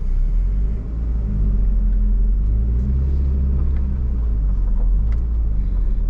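A 1997 Eagle Talon TSi runs and pulls away, a deep, steady engine rumble with low road noise beneath it, close and loud throughout with no talking.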